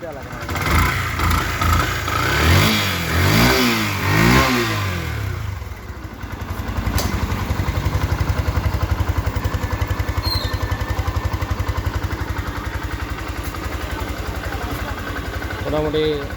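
A Yamaha FZS V2 motorcycle engine revs several times in rising and falling bursts, then settles into a steady, throbbing idle, loud and close, with voices talking over it in places.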